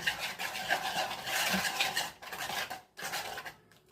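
Semolina batter mixed with water is stirred steadily in a bowl to break up lumps, a continuous scraping, swishing texture close up with a brief pause near the end.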